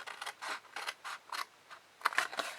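Scissors trim a paper flap for a Stampin' Up mini jam gift box, a series of short, close snipping and rustling cuts in uneven bursts, with no talking.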